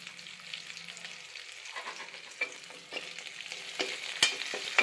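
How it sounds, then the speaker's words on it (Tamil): Curry leaves and garlic sautéing in a pan, a fairly quiet sizzle with scattered crackles and sharp clicks of stirring against the pan. "கொஞ்சம் வதங்கட்டும்."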